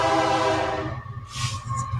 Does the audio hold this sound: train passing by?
yes